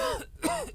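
A single man's harsh cough and throat-clearing, close and fairly loud, with a raspy, wet quality and a brief pause between bursts.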